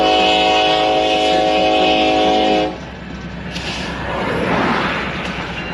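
A loud train horn blares for a few seconds, then cuts off, leaving the rumbling roar of a passing train close by.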